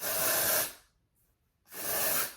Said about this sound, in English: I'm gonna use dry shampoo.